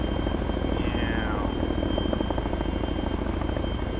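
A helicopter in the video game Arma 3, its rotor thumping steadily and loudly with a constant engine drone, plus a brief high whistling sweep early on, no voices.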